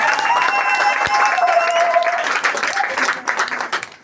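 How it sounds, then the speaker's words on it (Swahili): A church congregation claps for Jesus during a service, a loud, close burst of many hands that thins and fades toward the end, with a voice and some tonal sound underneath at first. "Pigia Yesu makofi mazuri"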